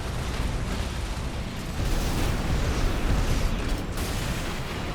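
Missile barrages in Armored Core 6 set off a steady, roaring wall of explosions and rumbling blasts that swells slightly midway, loud and continuous with no clear gaps and no voices.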